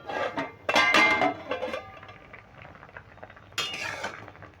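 A lid comes off a pot of half-boiled teasel gourd, or kankrol, with two bursts of metallic clatter and clinking close by, then a quieter stretch and another sharp rattle near the end.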